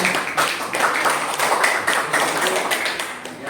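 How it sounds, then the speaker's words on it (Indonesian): Applause from an audience of teachers at a school training session greets a presenter named Ibu Sinta, a steady, fairly loud patter of many hands clapping nearby that continues throughout. "kita memberi tepuk tangan untuk Ibu Sinta"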